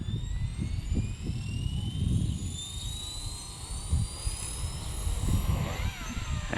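Blade 235CP RC helicopter rotor spooling up, a rising whine sweeping upward in pitch over a low fluttering rumble with wind noise, heard nearby and fairly loud.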